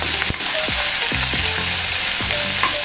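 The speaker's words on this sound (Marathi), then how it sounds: "कांदा चांगला लालसर होईपर्यंत मी परतून घेणार आहे." Finely chopped onion with a bay leaf sizzles steadily in hot oil, with repeated scraping and clinking of a spatula as it is stirred in the pan.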